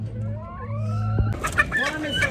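Rescued ex-battery laying hens cluck and chatter close by in a busy group, rising after a low steady hum, with people talking in the background.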